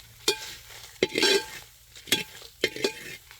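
Dry-roasting without oil of dried anchovy fish, shallots, red chilies and curry leaves, with repeated scraping stirs in the pan over a soft sizzle, no voices.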